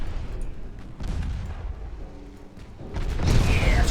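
A torpedo strikes an enemy ship in the naval game Ultimate Admiral Dreadnoughts, heard as a deep rumbling boom that swells toward the end over ongoing low mechanical battle noise.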